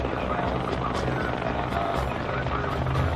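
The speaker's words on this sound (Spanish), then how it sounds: "llega el fuego de apoyo de los helicópteros Cobra y Apache para los tanques M1" Cobra and Apache attack helicopters arrive at night in support of M1 tanks, their rotors making a dense, continuous thumping roar. Faint voices can be heard underneath.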